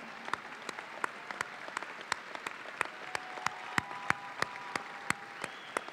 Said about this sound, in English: Let's give our mothers a round of applause they so greatly deserve.